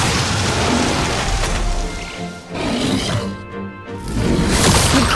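A Raging Fire spell in the role-playing game Metaphor: ReFantazio erupts as a loud, dense roaring blast, dipping briefly in the middle before surging again, thick and rumbling throughout with no speech.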